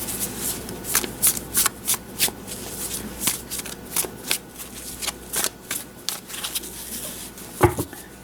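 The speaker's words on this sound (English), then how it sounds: "as always, you make a good shuffle with the cards" Tarot cards are shuffled by hand in a series of quick crisp riffles and taps, close and fairly quiet, each burst separated by brief pauses in an uneven rhythm.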